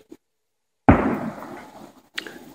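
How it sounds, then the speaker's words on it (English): At a national wildlife refuge, a single sharp, loud blast that rings out and decays over about a second, followed moments later by a fainter crackling pop. "Fireworks display, maybe."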